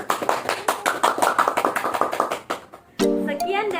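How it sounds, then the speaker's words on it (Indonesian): A small group claps hands together during a group activity session with elderly people, a rapid run of crisp, close claps that fades out, followed by a voice speaking. "kita tepuk tangan sekali lagi untuk kakek Melius"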